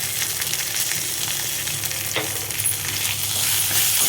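Green chillies fry in oil with a little salt, a loud, steady close sizzle with stirring scrapes running through it and no one speaking.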